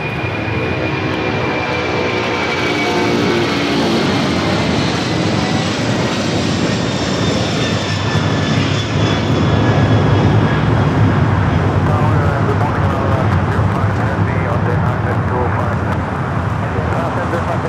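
A former Malaysia passenger Boeing 747 jet takes off at Los Angeles LAX, its engines a loud, continuous broadband roar that holds steady throughout, with a faint whine riding on top.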